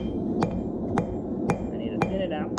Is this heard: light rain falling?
no